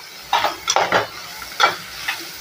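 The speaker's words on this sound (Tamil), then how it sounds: "இப்போ நல்லா வதக்கி விட்டுக்கோங்க." Onions sautéing in a pan for a Tamil brinjal and black chickpea curry: a soft background sizzle broken by several brief scraping stirs of a spoon against the pan, with no one talking.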